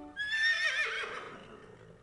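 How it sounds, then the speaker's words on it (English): An Arabian horse gives a single loud whinny that rises and then trails off, heard close and alone. "the only cast member to complete the entire 20-year run was an Arabian horse named Monk"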